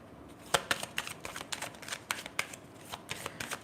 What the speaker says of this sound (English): Let me get one card from this deck.